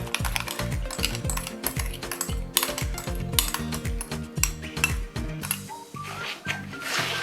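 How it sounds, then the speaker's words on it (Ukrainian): Rapid, rhythmic clinking of a whisk against a bowl mixing eggs and sugar, steady and close, with metallic scraping throughout. "змішуємо яйця з цукром"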